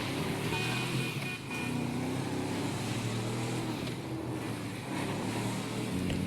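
A truck's engine accelerates in GTA 5, a steady loud motor drone with a rising tone running without a break and no talking over it.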